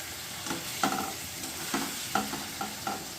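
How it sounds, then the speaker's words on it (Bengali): Pressure-cooked potatoes sautéed with spices in a pan for aloo dum, with rhythmic scraping strokes of a spatula over a low sizzle, close by and without talk. "দেখুন, মশলার সঙ্গে আমার খুব সুন্দরভাবে কষানো হয়ে যাচ্ছে আলুটা"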